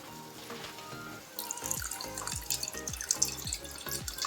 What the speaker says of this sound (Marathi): आता याच्यामध्ये ना पाणी टाकते मी